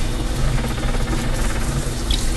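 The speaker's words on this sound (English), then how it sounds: "So I put a couple of cups of water in there." Water poured into the bottom of a large roasting pan before steam roasting lemon garlic chicken, a steady broadband splashing and trickling that runs continuously and fairly loud, close by, with no talk over it.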